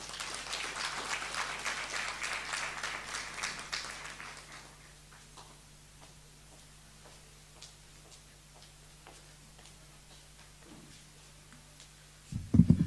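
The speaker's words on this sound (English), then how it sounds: "can we please have a big round of applause for her" Conference audience at a youth stakeholder engagement session in Johannesburg applauds a speaker, a few seconds of moderately loud clapping that fades out, leaving a quiet room with faint scattered ticks and a brief louder noise at the very end.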